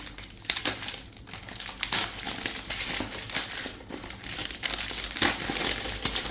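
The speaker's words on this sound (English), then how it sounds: "I'm actually going to find the correct place to actually rip it" Plastic packaging on a cheap handheld game console ripped open by hand, loud close crinkling and crumpling with sharp tearing bursts, continuous and busy throughout without speech.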